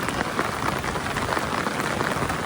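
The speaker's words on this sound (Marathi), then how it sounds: "पाऊस भरलोय पूर्ण भरलोय कंटिन्यू पडतोय बघा" Heavy, continuous rain pours down in Alibag, a dense and even hiss of drops striking surfaces close by, with no voices over it.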